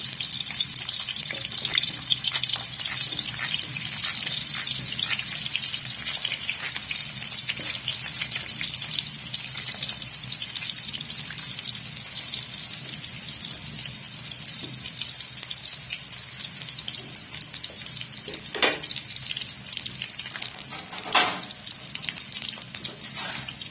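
Chopped onions frying in hot oil for aloo pakora sabzi, a continuous close crackle and spatter with a few sharper pops standing out near the end.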